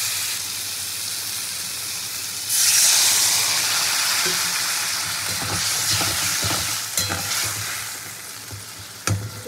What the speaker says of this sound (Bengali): আমটা তো হালকা করে ভেজে নিয়েছি, এবার অল্প করে একটু জল দেবো।